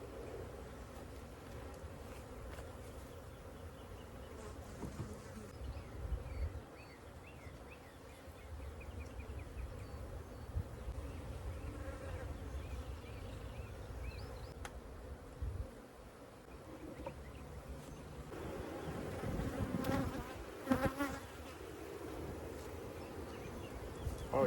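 Honey bees from a hive being cut out buzz in a continuous, close drone that swells louder near the end, with faint handling noises and no speech.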